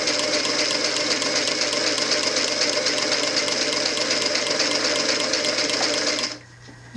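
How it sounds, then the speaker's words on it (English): Sewing machine running steadily and slowly with a twin needle along a knit fabric hem, a continuous close mechanical hum and rapid stitching rhythm that stops abruptly near the end. "with a twin needle, you do want to sew basically as slowly as you can bear"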